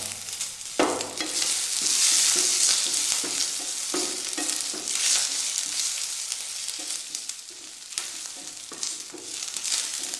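Curry leaves sizzle in coconut oil in a pan for Kerala-style erisseri with pumpkin and cowpeas, opening with a sharp hiss that settles into steady frying crackle, broken by repeated scraping stir strokes close by.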